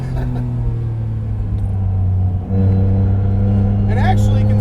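A 700 HP supercharged Acura TL on track, its engine holding a loud, steady harmonic drone with a brief dip near the middle as the throttle lifts and comes back on. A voice talks faintly over it.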